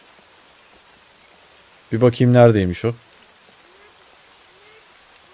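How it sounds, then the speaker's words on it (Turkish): Steady rain falls in the SCUM survival game, a soft continuous hiss held throughout, briefly covered by someone speaking in the middle. "Yağmur yağıyor."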